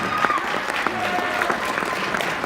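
Audience applause at a high school winter orchestra concert, a steady wash of many hands clapping with faint crowd murmur underneath.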